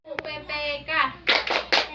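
A school class claps the PPK clap routine: a few rhythmic hand claps with children's voices chanting along, short and close.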